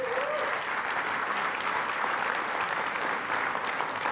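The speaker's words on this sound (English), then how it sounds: "Would you just clap and thank them for it?" Church congregation applauding its new church planters, a dense, steady wash of clapping that holds evenly from start to finish with no voices rising above it.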